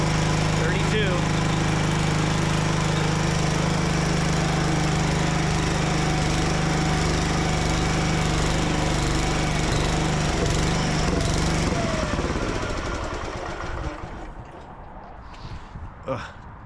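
The engine of an old Gravely C10 walk-behind tractor with a snow blower attachment idles loud and close with a rough, steady chug, then cuts out and sputters to a stop, leaving faint clanks.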